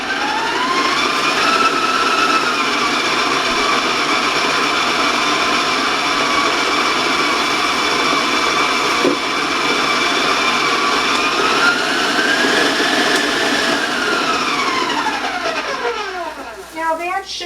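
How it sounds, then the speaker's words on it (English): A loud electric stand mixer creams butter and sugar for vanilla waffle cone batter, a steady high motor whine held close for over fifteen seconds, its pitch rising and dipping slightly before it winds down. "I'm going to warn you about the sound because the mixer can sound loud"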